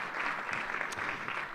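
An audience at a national agroecology event applauding, a dense steady clatter of many hands clapping at moderate loudness throughout a short burst.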